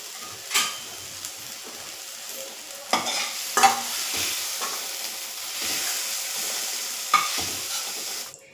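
Masala is stirred in a kadhai pan over the heat, with a faint constant sizzle beneath repeated scraping spoon strokes that come at uneven intervals, close by and with no one speaking.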